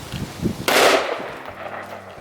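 A Radical Firearms RF15 AR pistol with a short barrel fires one 75-grain round into a cinder block. The single loud, sharp crack is close by and breaks a quiet background, then decays quickly into a brief echoing tail.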